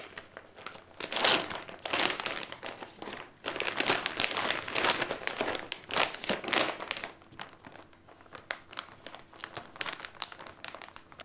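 A vacuum storage bag for 3D printer filament crinkles and crackles in dense bursts over a steady low suction hum, growing more irregular and sparse toward the end.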